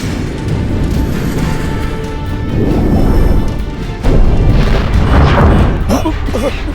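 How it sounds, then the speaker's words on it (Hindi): A torpedo strikes a trench wall in a movie sound effect, giving deep, rumbling booms that swell in two heavy surges beneath a dense, roaring underwater backdrop. "नंबर 2 टॉर्पीडो खाई की दीवार से टकराई है सर।"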